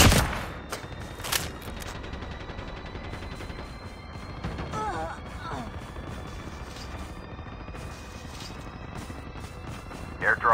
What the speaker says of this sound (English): Flashbang grenade.